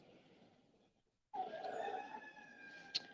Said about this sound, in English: Crazy roosters.